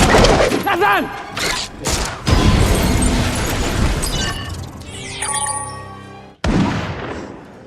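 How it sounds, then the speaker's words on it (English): Gunfire in a scene from the film M3GAN 2, a sci-fi thriller with an AI robot assassin: a burst of shots and heavy thuds over a loud, dense soundtrack, ending in a sudden cut. "She just shot Tripathi."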